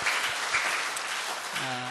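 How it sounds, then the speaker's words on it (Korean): Church congregation clapping during a Sunday service, a brief burst of applause that fades while a low sung or sustained tone rises near the end. "우리 한번 남신도들을 격려하고 응원하는 의미에서 우리 한번 박수로 한번"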